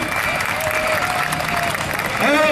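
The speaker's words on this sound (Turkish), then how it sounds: "Evet, alkış arkadaşlar." Applause at a graduation ceremony held by the sea, a crowd clapping steadily and fairly loud throughout, with voices and cheering mixed in and rising near the end.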